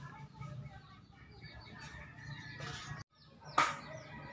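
An agitated turkey calls near its netted nesting pen, where a pair is laying eggs: scattered clucking sounds over a low background murmur, then a sharp, loud call near the end.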